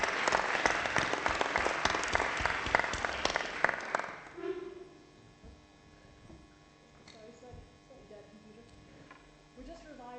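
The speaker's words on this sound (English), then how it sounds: "one last round of applause for our speakers" Applause for the speakers at the close of a conference plenary session, dense and loud for about four seconds before fading out, leaving a low electrical hum and scattered faint sounds.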